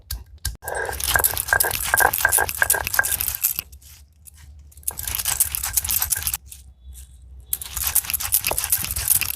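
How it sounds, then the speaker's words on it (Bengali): Small crab claws being crushed and pounded for a Bengali thola tok, heard as close, irregular crunching and cracking strikes in bursts separated by brief pauses. "এই ছোট ছোট দাঁড়াগুলো, এগুলোকেও আমি ভালো করে থেতো করে নিয়ে তারপর আমি বেটে নেব"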